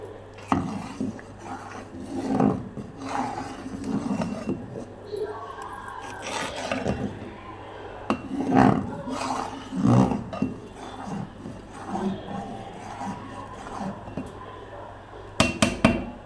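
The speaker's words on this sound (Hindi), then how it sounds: "अब इनको मिक्स कर लेंगे अच्छे से" Rice kheer being stirred in a pot, with irregular scraping and knocking bursts of a utensil against the pot, fairly close and moderately loud.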